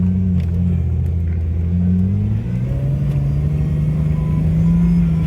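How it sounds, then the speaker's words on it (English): A Jeep's engine revs hard and steadily while its tires spin in snow, a loud, sustained close-up rumble whose pitch climbs and holds across the whole stretch. "The fastest those tires ever spun in the Jeep."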